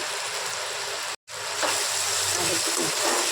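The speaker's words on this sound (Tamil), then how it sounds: "இப்போ நல்லா வதக்கிக்கலாம்" Green chillies sautéing in a pan give a steady close sizzle and crackle with faint stirring, interrupted by a short break early on.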